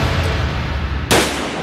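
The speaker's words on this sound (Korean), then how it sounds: "한 발의 총성이 울려 퍼진 결과" A single sharp gunshot cracks out abruptly near the end of a tense dramatic scene, loud and close over a low ambient rumble.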